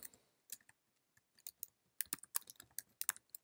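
Keys clatter on a computer keyboard as a command is typed, coming in quiet scattered clicks and then a faster burst of keystrokes close to the microphone.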